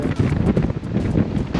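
During a windstorm on a bicycle ride in Alsace, strong wind buffets the microphone in loud, rumbling gusts that pulse unevenly throughout, with no voices.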